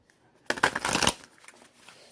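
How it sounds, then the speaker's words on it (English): A deck of tarot cards is riffled in one quick shuffle, a close burst of rapid crisp flutters lasting about half a second, followed by faint card handling, no talking. "I'm gonna do one more shuffle."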